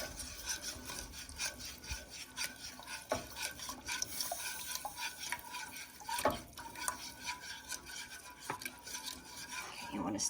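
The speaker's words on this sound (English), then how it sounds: "You want to stir that because it is a little bit lumpy." A lumpy milk gravy sauce being stirred in a pan, quiet repeated scraping and rubbing strokes with a few sharper clicks of the utensil, close and fairly faint with no voices.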